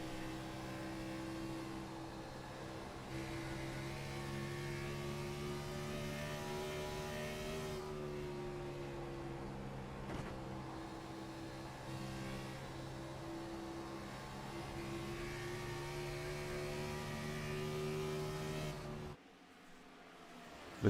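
Race car engines of the ANZCAR series hold a steady, droning whine on the track, with the pitch rising and falling slightly as the cars lap, sustained for most of the span before cutting away near the end.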